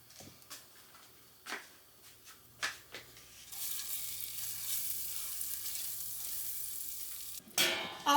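Butter melting and sizzling in a pan as a sauce base for a creamy parmesan garlic mushroom chicken dinner, starting with a few scattered clicks and taps, then a steady hiss of frying that carries on, with a louder clatter near the end.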